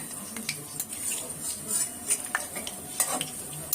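Fritters frying in a pan of hot oil make a crackling sizzle, broken by quick metallic clinks and scrapes of a cooking utensil.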